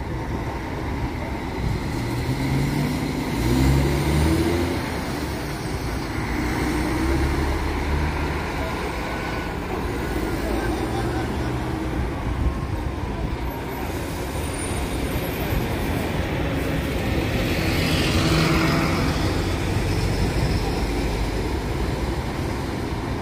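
Coach bus of Aviação Garcia, running Maringá to São Paulo, idles and moves at the busy Barra Funda bus terminal in São Paulo, a steady low engine rumble amid continuous terminal and traffic noise, with no clear talk over it.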